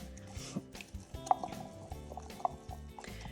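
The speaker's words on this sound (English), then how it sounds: "So now what I would do is I would stir this up really good." A spoon sloshes and squelches through sourdough starter discard mixed with water in a bowl, giving soft wet drips and clinks at an uneven pace, close and fairly quiet.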